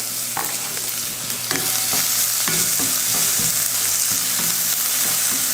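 Chopped onion and curry leaves sautéing with fennel in hot oil, a constant loud sizzle throughout with repeated spoon scrapes and stirring taps against the pan, close and without any talk.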